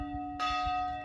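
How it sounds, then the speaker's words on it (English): A church bell strikes, its deep resonant tone ringing out clearly and sustaining over a lingering hum from earlier peals. "That bell is persistent,"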